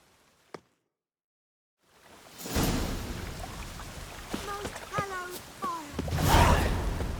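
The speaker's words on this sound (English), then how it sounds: "Looks like rain." Rain falls in The Witcher 3: Wild Hunt video game as a steady hiss and patter that starts after a brief silence and carries on with some swells, while voices talk over it.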